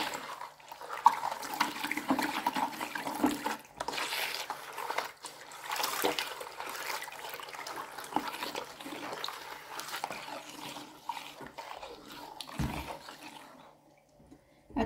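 Three liters of room-temperature water pour steadily into a container while homemade liquid coconut soap is being made, a continuous close splashing rush that ends briefly just before the close.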